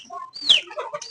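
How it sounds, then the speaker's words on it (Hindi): A chick chirps in a bird-filled setting, a quick sequence of bright, high peeps and squeaky calls, fairly close and moderately loud with other birds twittering faintly around it. "ये चूजा अभी तक रड़ियां कर रहा है।"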